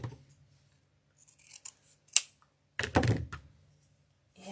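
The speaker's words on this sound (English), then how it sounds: "Now we're going to take our foil edge, dovetail the ends," Scissors snip through the ends of a foil-edged ribbon to cut a dovetail for a fall welcome wreath, giving a few sharp, close snips and rustles spaced apart, with quiet pauses between them.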